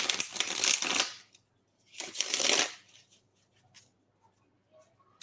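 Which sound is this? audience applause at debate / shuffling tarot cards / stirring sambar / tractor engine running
shuffling tarot cards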